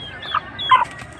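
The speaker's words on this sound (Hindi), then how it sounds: "ये इनकी माँ है जी मुर्गी जो है माशाल्लाह" Aseel Jageri breed chickens let out two short clucks close by, one after the other, over a quiet background, with no talking.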